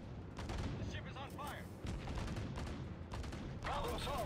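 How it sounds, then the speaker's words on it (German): Naval gunfire in World of Warships, with heavy booming salvos and explosions set against dense game noise, sounding near and continuous throughout. "Oh, da hinten kommen die Schüsse rum"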